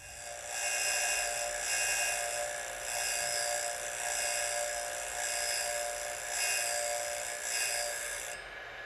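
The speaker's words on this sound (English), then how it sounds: "I'm only going to file from one side of the ring, and I'm careful to not grind a bunch of heat into this part" A hand file grinding the end gap of a 2JZ piston ring for a short block build, a steady rasping scrape in repeated strokes of about a second each, close and continuous with no talking.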